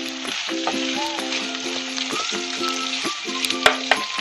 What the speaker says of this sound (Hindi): सेम पैन में हम ऑयल गरम कर लेंगे। उसमें अनियंस डालेंगे।